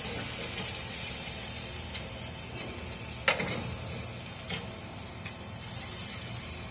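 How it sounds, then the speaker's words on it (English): Chicken wings sizzling on a grill, a steady close hiss and crackle with a few sharper pops, running throughout without talk. "It's cooking a little hotter over here."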